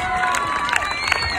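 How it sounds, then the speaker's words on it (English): A crowd cheers for the Montgomery girls team, with bright overlapping shouts and high voices over a steady roar and a few sharp claps, loud and close throughout. "Let's give them a round of applause, folks."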